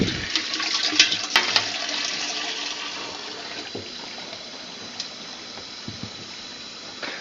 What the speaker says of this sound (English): we've got the Simplicity ready to get started here for the rinsing